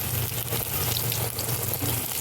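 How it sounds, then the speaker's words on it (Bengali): Bitter gourd pakoras fry in hot oil in a wok, a close, steady, crackling sizzle with no voices over it. "দেখুন এক পিঠ লাল লাল করে ভাজা হয়ে গিয়েছে।"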